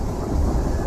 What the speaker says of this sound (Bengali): ঝড় এখনো গর্জন করছে।